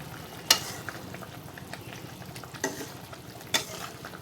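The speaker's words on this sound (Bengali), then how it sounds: "পোস্ত আর মগজটা দেওয়ার পরে ঝোলটাকে আরেকটু নেড়ে নেব" A fish curry with poppy seed and melon seed paste simmers and sizzles gently in a pan while being stirred, with three sharp clinks of the spoon against the pot over a soft bubbling hiss.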